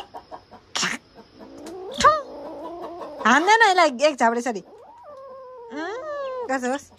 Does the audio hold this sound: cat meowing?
yes